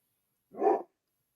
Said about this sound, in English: starting to bark because it's 10 minutes to 5 here in Arizona, and he knows it's dinner time at 5